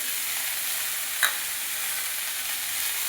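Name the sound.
stirring food with turmeric in a frying pan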